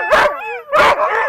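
Siberian husky sled dogs bark and yip nearby in Vermont, two loud bursts with a whining, howling cry between them.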